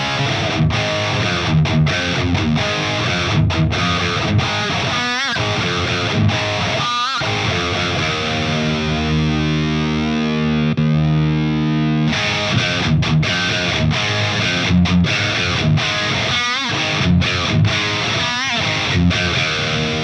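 Distorted electric guitar played through an amp's rhythm channel shaped with EQ, aiming at a live tone: loud chugging chords and sustained notes, with a break of a ringing held chord mid-way.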